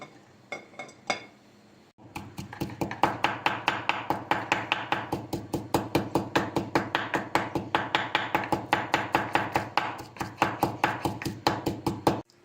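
Garlic cloves are crushed or pounded in a kitchen while preparing yogurt cauliflower, with a rapid, steady series of sharp knocks continuing for about ten seconds after a few initial taps.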